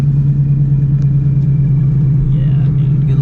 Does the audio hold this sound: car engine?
yes